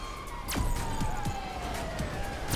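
An ambulance siren in the video game GTA Online wails with a steadily falling pitch over constant engine and traffic noise. It stays fairly loud across the short stretch, with occasional sharp knocks.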